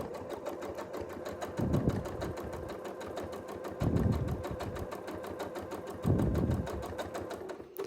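Sewing machine stitching free-motion quilting, a steady rapid needle chatter running throughout, fairly quiet, with three brief heavier thumping swells spaced a couple of seconds apart.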